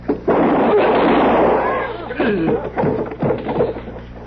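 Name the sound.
gunshot sound effect in a radio drama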